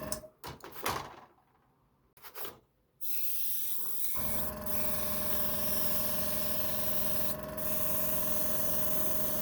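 Low-pressure airbrush spraying paint onto plastic wargaming buildings, a steady close hiss that starts after a few seconds of handling clatter and runs on continuously.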